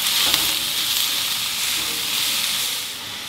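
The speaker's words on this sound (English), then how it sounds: "we'll just keep stirring this around as it cooks down" Zucchini noodles sizzle steadily in a hot pan as they are stirred and cook down, a continuous close frying hiss with no talking.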